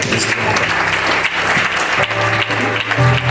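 Loud, dense applause from a crowd, continuous and close, with a voice and music-like tones faintly mixed underneath.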